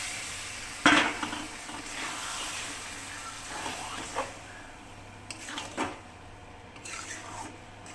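Deboned fish is tipped into a pan of frying spice paste and stirred, with a soft splat followed by a quiet sizzle and faint, scattered scrapes of a spatula against the pan.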